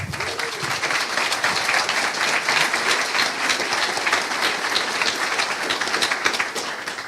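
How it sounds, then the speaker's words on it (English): Steady, dense applause from a large audience at a formal welcome event in a Paris building, continuing evenly for several seconds with a brief voice at the very start. "A round of applause, please."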